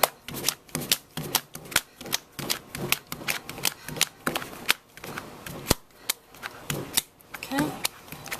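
Clay being wedged by hand, struck down and turned, a close, steady run of sharp slaps and thumps repeating at a brisk even rhythm.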